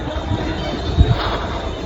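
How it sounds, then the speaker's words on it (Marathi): A train rumbles past nearby, a steady rushing roar with a brief metallic squeal of wheels midway, no talking. "आता जसं ट्रेन गेली"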